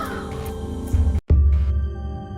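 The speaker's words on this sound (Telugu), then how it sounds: "కాకులు ఏడుస్తాయి, అవి గుర్తుంచుకున్నట్లుగా." Crows caw near a castle of legend where earth meets sky, harsh calls layered over a dense tonal background with a brief silent gap in the middle.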